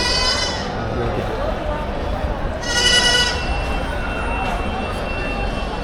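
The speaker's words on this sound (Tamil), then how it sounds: "செம்மறி ஆடு." Sheep bleating at a busy goat and sheep market in Ranipet, loud drawn-out harmonic calls rising over a dense crowd murmur and steady background bustle.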